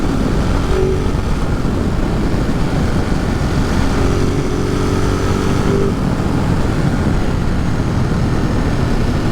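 Motorcycle ride in Catskill Park near Roscoe, New York, on a bike with about 6,500 miles: a loud, steady engine drone mixed with heavy wind rush continues the whole time, with a slight pitch shift midway.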